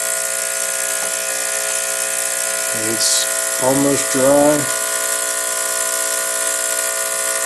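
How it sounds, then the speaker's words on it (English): An ultrasonic cleaner hums steadily with a constant high whine and buzz, and a person speaks briefly in the middle over the running machine. "I got my sonic cleaner working here"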